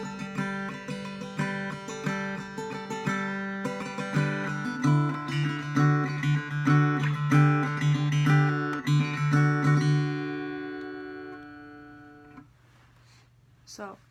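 Guitar plays the opening part of a song's riff, a steady run of plucked notes over a sustained low tone for about ten seconds, then fading into quiet ringing.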